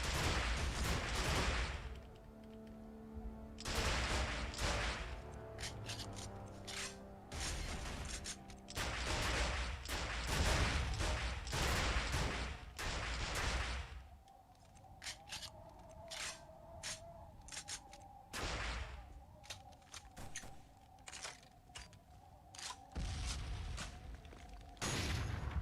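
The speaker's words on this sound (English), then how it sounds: "You can fire like a 4-shot burst." Gunfire crackles through Fallout 76, with repeated short bursts and sharp shots clustered in groups, loud and close, separated by brief pauses and mechanical clicks.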